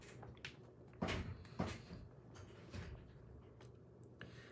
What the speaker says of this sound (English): Lily, close the door on your way through.